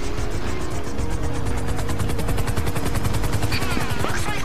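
Helicopter in GTA Online, steady close rotor chopping and engine whine throughout, joined by rapid machine-gun-like bursts in the background.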